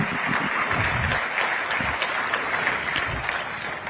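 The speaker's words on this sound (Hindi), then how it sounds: "बहुत बहुत तालियों से अभिनंदन" A crowd at a police ceremony applauds, a dense, sustained burst of many hands clapping, fairly close and continuous for several seconds with no pause.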